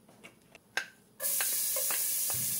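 Garlic, onion and tomato go into a hot pan, where a few soft clinks and taps give way to a sudden, loud, continuous sizzle close by, with faint stirring scrapes.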